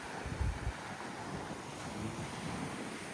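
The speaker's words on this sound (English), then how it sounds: "There's some good waves out there too for surfing." Ocean waves roll onto the beach at João Pessoa, Brazil, making a soft, continuous wash heard from a distance, with low gusts of wind buffeting the microphone and no voices.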